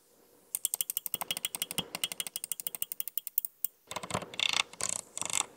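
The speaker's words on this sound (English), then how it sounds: "no mouse review is complete without some click sounds." Rapid, crisp button clicks from a Logitech G502 X Plus gaming mouse, a steady run of close, dry taps followed by a faster, denser burst, heard alone without talk.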